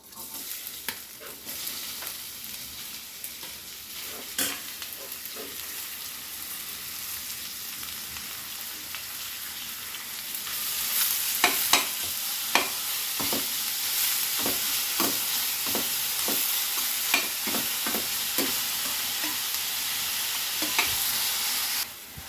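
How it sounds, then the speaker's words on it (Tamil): Onions, green chilies and tomatoes sauté in hot oil for paneer bhurji, a soft continuous sizzle broken by scattered scraping stirs of a spatula that grow busier and louder midway. "வெங்காயம் வதங்கிட்டு இருக்கு."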